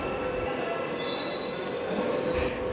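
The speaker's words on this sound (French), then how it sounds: "Me voilà arrivé sur la ligne du métro M4 en vert" Istanbul M4 metro train wheels squealing on the rails, a continuous high-pitched screech over steady rumbling rail noise, loud and close throughout.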